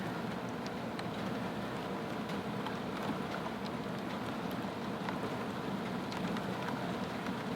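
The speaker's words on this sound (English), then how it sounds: "it is starting to rain." Rain falls steadily outdoors as a soft, even hiss with scattered drops tapping on surfaces, faint and continuous throughout, no voices.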